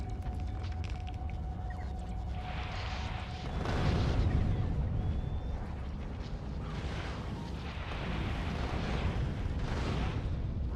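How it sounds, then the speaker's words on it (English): Rockets fired and exploding in the video game Rampant DeathWorld, heard as low rumbling booms and muffled blasts that swell and fade over a constant droning background, fairly faint overall. "And shoot some rockets."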